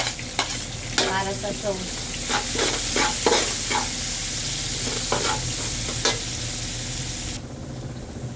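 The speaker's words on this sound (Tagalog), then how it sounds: "Magigisa tayo ng bawang" Garlic sautéing in cooking oil in a kawali for a pancit palabok sauce: a steady, close sizzle with repeated scraping stirs of a utensil, and a short spoken remark.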